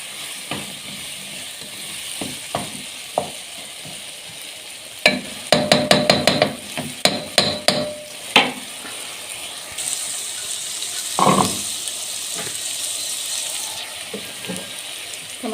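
Green fava beans and rice sauté in a pan for a coriander fava dish, with a soft sizzle under a run of sharp clinks and scrapes of stirring, then a brief watery splash.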